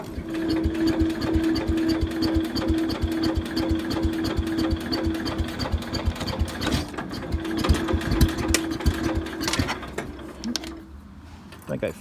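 Stihl MS 251C chainsaw, a little flooded from the last use, starting up and running with a steady buzzing, rattling engine note that holds for about ten seconds before easing off near the end, loud and close.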